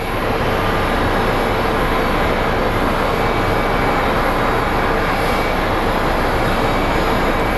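A jet roars loud and unbroken at Phoenix Sky Harbor International Airport, a dense engine rumble filling the whole stretch as the plane comes in close overhead.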